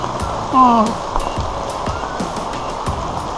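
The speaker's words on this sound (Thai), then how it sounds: "ฝนตก" Rain falls in a garden in the Netherlands, a steady patter with scattered sharper drops hitting surfaces, joined by a short voiced sound early on.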